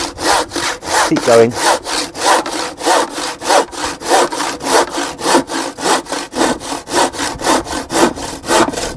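A handsaw cuts a mitre through a length of timber with steady, rhythmic back-and-forth strokes, about two or three per second, close up and loud throughout, and a brief spoken remark.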